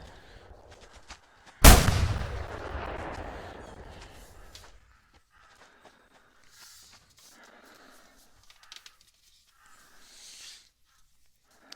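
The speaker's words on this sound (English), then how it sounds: "So I shot a couple times" A hunting rifle fires in the game The Hunter Classic, one loud close shot with a long rolling echo fading over a few seconds, then quiet outdoor ambience.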